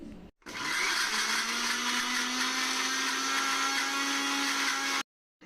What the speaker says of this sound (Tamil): இப்போது இதில் 1 கப் அளவுக்கு பால் சேர்த்து மிக்சியில் நல்லா வந்து இதை கிரைண்ட் பண்ணி நல்லா அரைச்சிக்க போகிறோம்